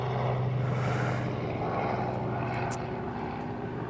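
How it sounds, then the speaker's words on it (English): A propeller airplane drones overhead outdoors, a steady broad engine hum that is loudest at first and slowly fades, with a brief high chirp partway through. "let's wait for this plane to pass"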